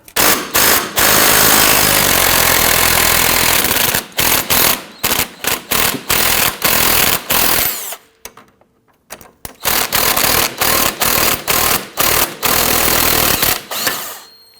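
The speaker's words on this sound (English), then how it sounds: "We're going to use our 18mm wrench and our socket." An impact wrench with an 18mm socket loosens a nut and bolt on a 2005-2010 Chrysler 300 rear suspension knuckle, firing loud, close bursts of rapid hammering separated by short pauses and a brief silence midway.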